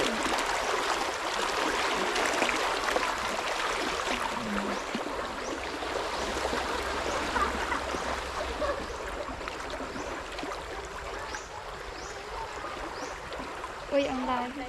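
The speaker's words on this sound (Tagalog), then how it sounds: "Lakas ang tubig." Strong river water flows steadily in the countryside after a storm, with a continuous rushing wash. People talk intermittently over it.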